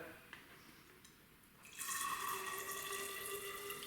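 Distilled water pours into a beaker while measuring for a soil pH test, a faint trickle giving way to a steady, brighter splashing stream that starts partway through and continues to the end.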